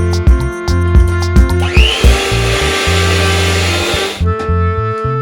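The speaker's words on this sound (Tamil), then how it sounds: "பீட்டர் வச்சு அடிச்சுக்கலாம். பீட்டர் ஸ்லோ ஸ்பீட்ல தான் இருக்கணும்." Electric hand beater whirring steadily at slow speed through brownie batter for a rose milk brownie recipe, a continuous close motor hum with brief knocks against the bowl, no talking.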